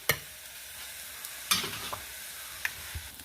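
Spoon stirring masala in ghee in a pan with a soft steady sizzle underneath, a few sharp scrapes breaking through; close and moderately loud, no voices.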